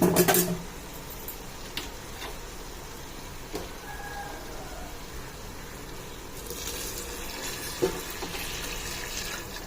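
Hot water poured into a cooking pot for prawn biryani, a steady, fairly quiet stream of liquid after a brief louder splash at the start.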